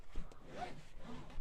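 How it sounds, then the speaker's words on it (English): A car seat belt being pulled across and fastened, a short rustling zip-like slide of webbing with a faint click, close and fairly quiet with no talking. "fasten the seat belt"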